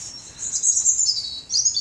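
Wild birds chirping and singing outdoors, a bright, close run of high tweets lasting under two seconds, with no talking.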